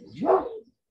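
A single short dog bark, close and fairly loud, from an upset pet dog indoors, lasting well under a second and then cutting to silence.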